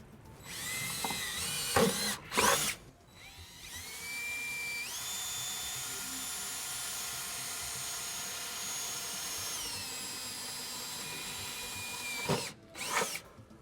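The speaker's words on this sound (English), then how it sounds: "we're going to take a small drill bit to use as a pilot hole to drill in the center" A power drill whirs steadily for several seconds, drilling pilot holes in a 2012 Hyundai Genesis for a trailer hitch, its pitch stepping up and down, with short rattling bursts before and after.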